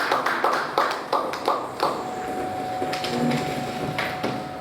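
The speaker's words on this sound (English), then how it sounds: "Let's jam our hands together." An audience clapping at a financial conference: a burst of close, sharp, uneven claps that thins and loosens after a couple of seconds, with no talking.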